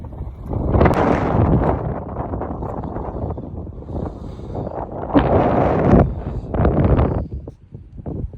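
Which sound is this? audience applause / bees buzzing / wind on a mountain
wind on a mountain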